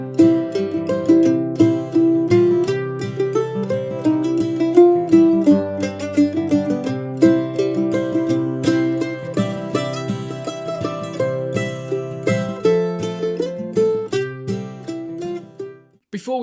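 Mandolin picks the intermediate arrangement of Wildwood Flower, a busier run of bright plucked notes with added fills and ornaments, played solo, close and evenly loud.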